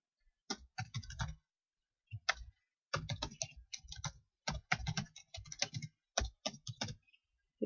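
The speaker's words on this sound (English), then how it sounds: "So type carefully." Bursts of keyboard typing, close and crisp, with rapid key clicks in uneven runs separated by short pauses, no voices.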